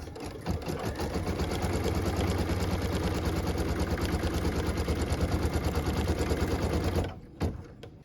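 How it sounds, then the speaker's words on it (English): An embroidery machine stitches a tack-down line on a pieced quilt block, a steady rapid mechanical whir and needle chatter running for about seven seconds before stopping with a couple of small clunks. "What I'm stitching now is the tack down line for piece number 12."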